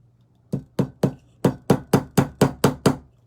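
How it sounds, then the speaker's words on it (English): Steady hammer blows drive a nail into a wooden pedestal craft piece, about ten sharp, evenly spaced knocks close by, with no talking. "Put it in with your hammer."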